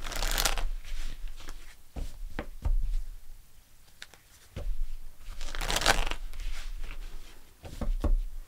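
Loud, close bursts of tarot cards being shuffled, riffled and slid apart as one is pulled from the deck, with rustling in between.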